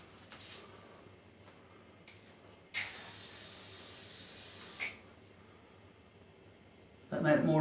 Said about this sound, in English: What about hairspray? Do you reckon hairspray's gonna help you? This is Tresemme perfectly undone.